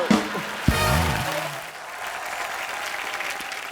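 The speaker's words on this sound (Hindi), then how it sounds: "जोरदार तालियां" Clapping from the studio audience of a television comedy show follows a brief sung or spoken phrase, then continues as a moderate, steady wash of applause that softens slightly partway through.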